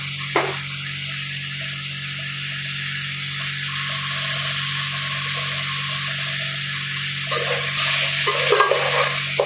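Pieces of fish frying in a pan, a constant close crackling sizzle with a low steady hum underneath and some soft stirring scrapes near the end, with no voices.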